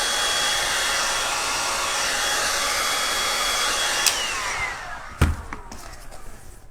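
A heat gun blows with a loud, steady roar while warming trim on a vintage sewing box, then cuts off, leaving a couple of sharp knocks and quieter handling sounds.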